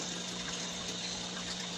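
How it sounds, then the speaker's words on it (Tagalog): Water filling a turtle tank sump through PVC pipe with an elbow, a steady close rushing gush with no pauses and no voices. "So lalagyan na ng tubig."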